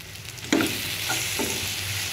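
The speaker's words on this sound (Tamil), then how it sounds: "இப்போ எல்லாத்தையும் நல்லா வதக்கி விடுவோம்" Masala spiced with garam masala and salt is sautéed in a pan for parupu urandai kulambu: a sudden scrape of stirring, then a continuous loud sizzle with softer stirring strokes.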